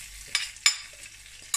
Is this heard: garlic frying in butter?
yes